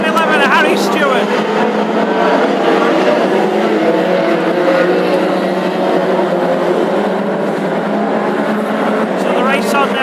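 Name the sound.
classic hot rod race cars racing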